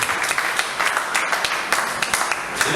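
A congregation in a French-speaking church applauding, steady rhythmic clapping from many hands filling the room, with voices faintly underneath.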